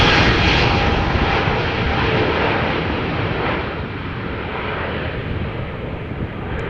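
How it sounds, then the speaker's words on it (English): An Air Transat Airbus A321 jet departing Amsterdam Schiphol Airport roars loudly and steadily, a broad engine rush that slowly fades as the aircraft climbs away, with no talking. "Air Transat A321 going to Montreal."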